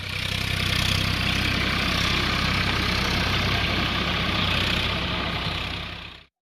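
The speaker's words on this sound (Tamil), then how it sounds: "டிராக்டர்கள் மூலமாகவும் நிலத்தை உழுதனர்." A tractor engine runs steadily while ploughing a field, a loud continuous low drone with no breaks that stops abruptly at the end, with no voices.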